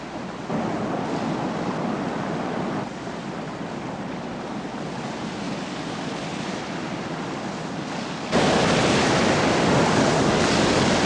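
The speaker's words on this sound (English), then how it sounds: "somebody opens the spillways and creates a flash flood" Roaring water gushes from opened dam spillways in a flash flood below a river dam in Utah, a broad continuous loud rush that swells even louder near the end.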